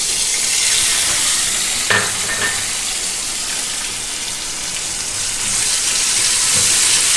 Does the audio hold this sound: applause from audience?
no